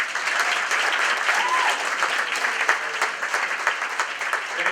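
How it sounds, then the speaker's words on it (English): An audience at an event gives sustained, dense applause that stays steady and fairly loud throughout, with many hands clapping at once. "round of applause to Mr. Peter Rumble"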